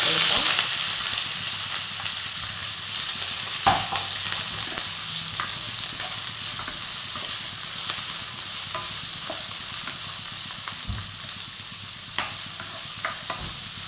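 Onions sautéing in a pan with cloves and cardamom while chicken mappas is made: a continuous close sizzle with occasional spatula clacks and scrapes, moderately quiet, with no talking.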